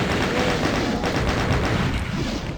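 A Doom 2 chaingunner's rapid, continuous gunfire, loud and dense throughout, layered with other combat noise.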